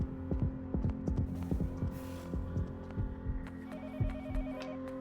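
A telephone activated in the horror game Yomawari: Night Alone, heard as a low throbbing hum with rhythmic pulses and a faint electronic ringing tone rising near the end, quiet and eerie.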